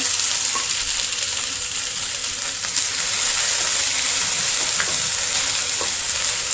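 Crushed green chillies hit hot oil in a pan with small onions already browning, giving a loud, steady sizzle and hiss that runs throughout, with a few faint clinks of stirring.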